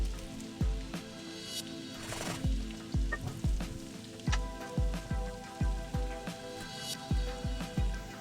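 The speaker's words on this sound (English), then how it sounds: "you add the chilies." Chilies hitting hot oil with onion and ginger that have turned translucent, for chicken fajitas, sizzle steadily while a spatula stirs with repeated sharp scraping knocks roughly every half second, close and fairly quiet, with no talking.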